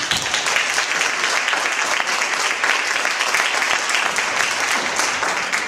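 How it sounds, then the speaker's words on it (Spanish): Steady audience applause at a Valentine's festival event, many hands clapping densely and evenly for several seconds with no talk over it. "Así es que para todo eso yo sí que les pido un aplauso."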